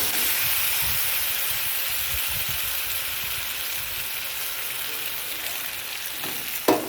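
Ginger, tomato, cumin and chilli paste with salt and turmeric fries in a pan over a low gas flame, a steady close sizzle and hiss that runs the whole time, with a brief clink of stirring near the end.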